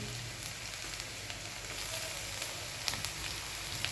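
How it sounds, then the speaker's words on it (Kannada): Onion and garlic sizzle steadily in hot oil in a pan for rasam, a dense even crackle with a few faint pops and no talk. "ಈರುಳ್ಳಿ ಇದನ್ನು ಫ್ರೈ ಮಾಡೋಣ. ನೋಡಿ, ಈಗ ಫ್ರೈ ಆಗ್ತಿದೆ."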